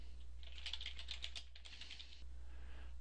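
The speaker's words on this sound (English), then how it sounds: "you can overwrite the equipment type by simply typing blending tank in the drop-down menu" Quick bursts of typing on a computer keyboard, soft rapid key clicks over about two seconds with a short pause in the middle, faint against a steady low hum, no voices.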